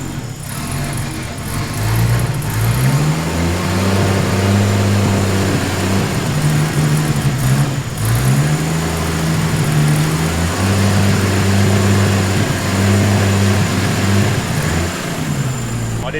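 A Nissan Skyline R31 engine fitted with 750 injectors idles roughly and runs rich after start-up. The loud, steady mechanical drone dips and rises in cyclic surges, with no other sound over it.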